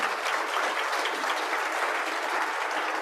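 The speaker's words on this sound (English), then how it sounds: "So let's please give them a round of applause." Audience applause for a Navy band woodwind quintet, steady and dense clapping from a crowd filling the whole stretch at moderate loudness.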